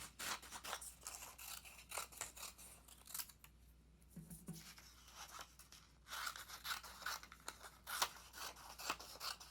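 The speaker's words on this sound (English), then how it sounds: "But I could probably cut this paper into 3 strips." Scissors snip through paper while strips are cut for a paper sculpture, a run of crisp, close, quiet cuts with a short pause midway and no talking.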